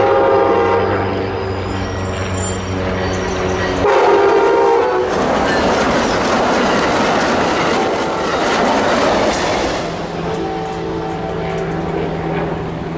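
A northbound Amtrak Cascades passenger train passes close by in Western Washington, loud and sustained, with a horn blast early on and then a steady rumble and rattle of the passing cars.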